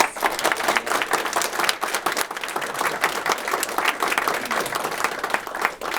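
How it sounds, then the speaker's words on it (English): Conference audience applauds panelists after a civic engagement session, a continuous, full round of clapping from a roomful of people, steady and fairly loud throughout. "Could we please have a round of applause for our panelists?"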